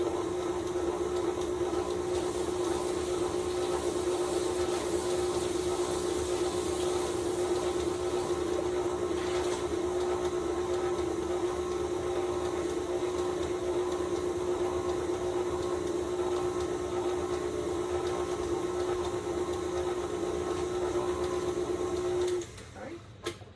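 An electric stand mixer runs steadily at low speed through chocolate buttermilk pound cake batter, a continuous loud motor whir holding one even tone before cutting off near the end.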